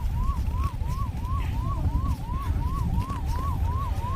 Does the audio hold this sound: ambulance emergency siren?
yes